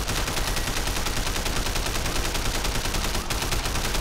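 Rapid, continuous gunshots ring out in the Sleeping Dogs video game, a dense, loud barrage of firing that carries on steadily with no talking.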